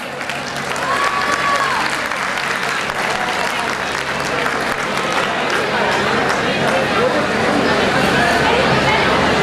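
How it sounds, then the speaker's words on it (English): An audience at a college techno-cultural festival gives sustained applause for the winners, dense and loud with some crowd chatter mixed in and rising slightly toward the end. "All the winners deserve a huge round of applause."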